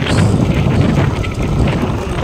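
Strong typhoon wind from Typhoon Nando in Abulug, Cagayan roars steadily across the microphone, a loud, unbroken rush of buffeting noise with no clear voices.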